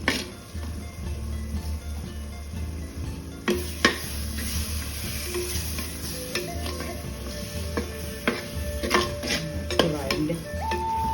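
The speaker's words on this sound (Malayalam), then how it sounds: "തക്കാളിയൊക്കെ ഒന്ന് വഴണ്ട് വെക്കണം" Tomatoes sautéing with onions, turmeric, chili and coriander powders in oil for a fish head curry, a steady close sizzle broken by repeated scraping and clinks of a stirring spoon against the pan.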